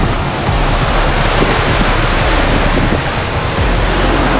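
Wind and sea surf roar along the Tenerife coast near the Anaga mountains, a loud, constant wash of gusting air and breaking waves that never lets up.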